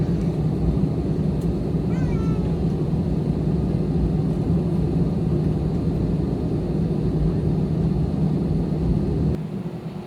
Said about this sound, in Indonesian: pesawat yang kita naiki sedang taksi menuju ke runway